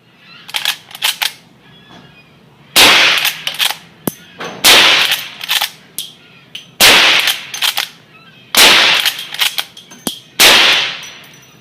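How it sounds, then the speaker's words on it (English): A Rossi M92 lever-action carbine fires 99-grain round-nose flat-point bullets in five loud, sharp gunshots spaced a couple of seconds apart. Quicker mechanical clacks from working the lever fall between the shots. "a full box of ammo doesn't last very long when we're shooting it out of a carbine"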